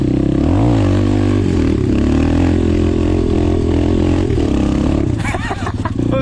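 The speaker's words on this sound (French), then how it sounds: "Je vais voir si ça lève cette moto là" An Apollo Sano DMZ 250 dirt bike at the top of a hill revs hard as the rider lifts the front wheel, the engine roaring loudly and close with pitch swings. Near the end the engine drops back and a voice speaks over it.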